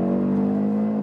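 Audi RS Q3 engine, 400 hp, held at high RPM in a loud, steady sustained rev with a strong constant tone that drops off sharply at the end, no talking.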